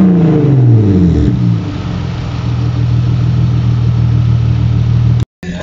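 A BMW E46 325ci with 76mm exhaust tail pieces revs loudly up close, a rising throaty blip settling into a steady droning rev before cutting off abruptly near the end.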